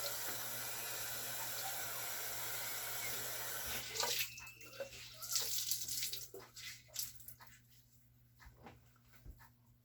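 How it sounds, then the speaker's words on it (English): Running tap water splashes steadily for a few seconds, then breaks into intermittent splashes as cool water rinses a face close by. "Now we just want to rinse it on off with some cool water."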